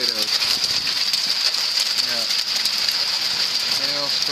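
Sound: hailstorm

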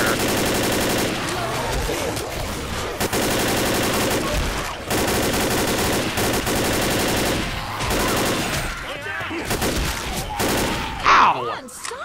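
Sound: gunfire from the video game Left 4 Dead

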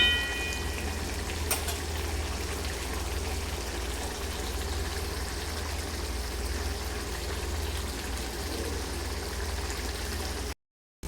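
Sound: gourd and tomato curry cooking down in pan

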